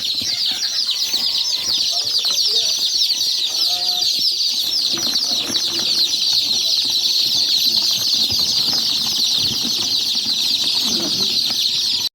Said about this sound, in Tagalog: Yan first batch na sisiw, napakarami nito guys.